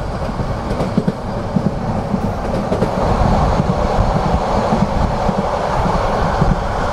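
Sonar Bangla Express train rolling over the rails on a long curve near Shashidal station between Dhaka and Chittagong, a loud, steady rumble with rhythmic clatter from the wheels heard from on board.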